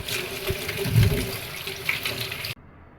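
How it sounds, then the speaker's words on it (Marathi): Running water pours steadily from a tap, splashing over beetroots held beneath it, then cuts off abruptly near the end. "मी स्वच्छ अशी पाण्याने धुवून घेते"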